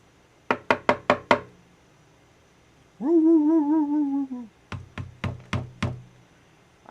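Five quick, sharp knocks on something hard, a pause with a wavering tonal sound, then another burst of five knocks, all close and loud with no talk.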